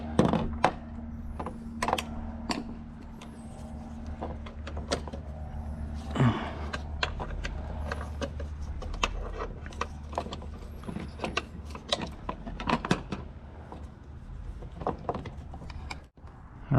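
Plastic trim covers being pried off a Toyota Highlander, heard as a series of sharp clicks, snaps and small knocks scattered through a quiet interior, close and fairly crisp, with no talking.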